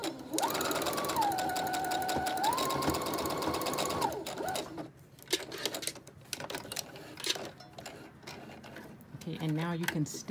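Sewing machine stitching a bag strap onto fabric, a loud continuous mechanical whir with a rising and falling motor pitch, then choppier stop-start stitching bursts toward the end.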